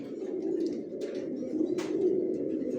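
Pigeons coo softly and continuously in a new bedding loft, a low steady warble with a couple of faint flutters or chirps above it, close by and without talk.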